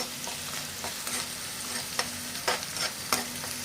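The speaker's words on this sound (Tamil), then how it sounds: "இந்த மாதிரி லேசாக வதக்கிக்கிட்டே இருக்கும்." Vegetables sautéing in a pan for veg fried rice give a soft, continuous sizzle with occasional light scraping stirs, close but fairly quiet, and no one speaks.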